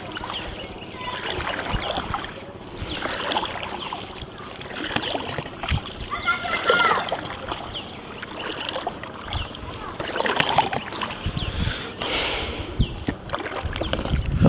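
A boat pushes through floodwater in a village after a flood, with continuous sloshing and splashing, wind buffeting the microphone and faint voices in the background.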